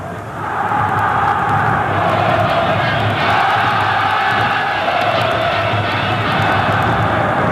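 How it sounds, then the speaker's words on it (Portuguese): A massive stadium crowd of Vasco supporters roars and chants loudly and continuously at a Flamengo versus Vasco Copa do Brasil final, with a dense, swelling wall of voices throughout. "E o suficiente para levantar a torcida Cruz Maltina"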